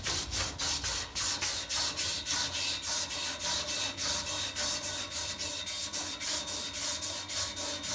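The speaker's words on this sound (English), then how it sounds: "So basically we're sanding the whole thing down." Rhythmic sanding on the steel roll cage of a 1964 Ford Fairlane race car, steady close rasping strokes repeating about three times a second with no talk.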